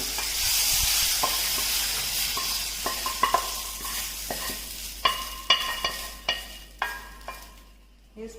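Whole spices for a restaurant-style veg kolhapuri are stirred and sautéed in a pan, with a soft sizzle under a series of sharp scraping and clinking strokes that grow more distinct toward the end.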